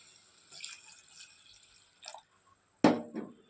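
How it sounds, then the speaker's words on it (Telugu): Water is poured into a cooking pan while making crab curry: a few quiet drips and splashes, then a short, sharper burst of pouring near the end, with near silence in between. "కొంచెం ఉడకడం కోసం వాటర్ అయితే పోసుకోవాలి"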